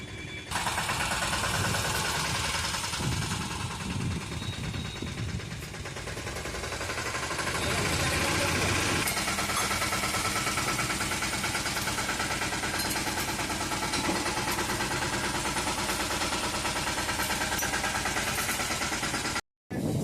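A loud tractor engine rumbles continuously nearby on a farm, rough and vibrating throughout, before cutting out briefly near the end.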